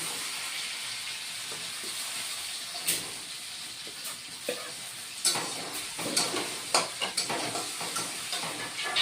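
Fried potatoes tossed back into a bitter gourd curry give a soft, steady sizzle with scattered clinks and scrapes of stirring in the pan, close by and fairly quiet, with no voices.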